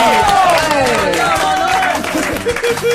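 Studio audience applause on a French TV talk show, a steady wash of clapping and crowd noise running throughout, with a host's voice and a pitched tone riding over it.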